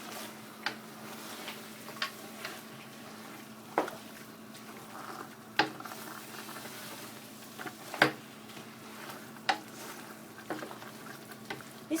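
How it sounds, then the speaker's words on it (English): Eru, a Cameroonian leafy vegetable dish, stirred in a cooking pot, giving scattered soft ticks, taps and wet clicks at an irregular pace over a steady low background hum. "I'm gonna stir it, distribute it."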